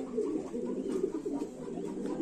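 Lahori pigeons at a pigeon farm in Comilla give soft, repeated low coos that overlap in a steady, close murmur.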